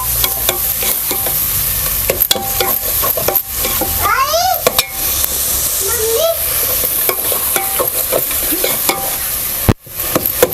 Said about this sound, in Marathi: तेलामध्ये परतून घेऊया पूर्ण चांगलंसं तेल सुटतपर्यंत आपल्याला मसाला परतून घ्यायचा